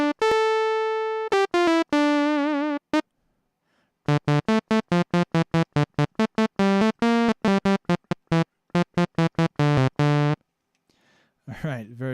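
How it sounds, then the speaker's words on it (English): Default patch on the Thor synth in Reason: a single sawtooth waveform run through a filter, playing bright buzzy synth notes, first a few sustained tones then a fast run of short staccato notes, alone and fairly loud. "it's set up for just a single sawtooth waveform going in through a filter"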